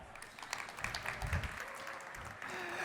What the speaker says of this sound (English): Round of applause for him as well.